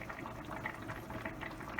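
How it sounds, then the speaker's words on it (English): Bone broth soup at a rapid boil in a pot on the stove, a dense, continuous bubbling with frequent small pops and gurgles, close and moderately loud, no voices. "let it come back up to another rapid boil. Now, since this is already boiling again"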